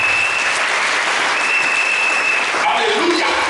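A church congregation applauds during a worship service, with dense, steady clapping that stays loud throughout and blends with a few crowd voices.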